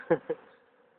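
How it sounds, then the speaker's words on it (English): Honeybees during a hive inspection while searching for a virgin queen: two short, close buzzing bursts in quick succession, then a faint steady hum fading out. "Sometimes other bees just, sometimes they get caught under your finger and then they make this similar sound."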